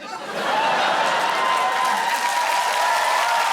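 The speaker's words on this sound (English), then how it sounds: "Why are you cheering?" A studio audience at a comedy television show breaks into loud, sustained applause and cheering with scattered laughter, rising quickly and holding steady with no talk over it.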